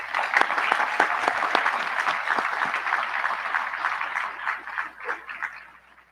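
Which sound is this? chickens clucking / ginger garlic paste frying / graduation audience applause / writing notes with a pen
graduation audience applause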